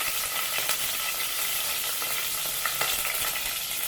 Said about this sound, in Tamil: கடாயில் எண்ணெய் வச்சுட்டு தாளிக்கிறதுக்கு கொஞ்சம் கடுகு போட்டுக்கலாம்